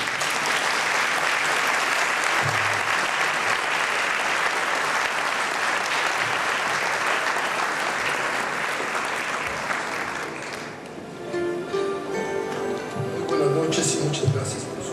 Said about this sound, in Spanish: recibamos con un fuerte aplauso al escritor Antonio Velasco Piña